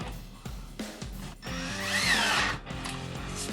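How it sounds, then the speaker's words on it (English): A combo drill driver bores a counterbore into wood, with short bursts of motor whir rising to a louder, shrill cutting stretch before winding down, close and alone. "Counterboring our hole."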